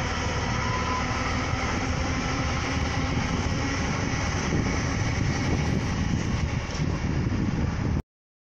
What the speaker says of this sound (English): leading this 2-unit 10 carriage train to Cardiff Central